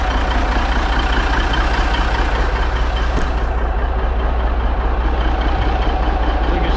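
A worn 1983 Kenworth cabover truck engine with one cylinder burning oil idles steadily, a dense continuous low rumble with no talk over it.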